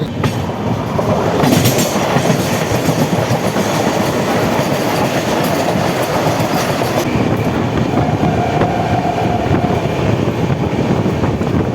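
A Vande Bharat Express on the New Jalpaiguri–Howrah route runs along the rails in a loud, steady roar with faint wheel clatter throughout, close by and unbroken.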